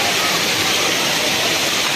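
Dense, steady roar of heavy stormy rain and rushing water, loud and continuous, with no voices.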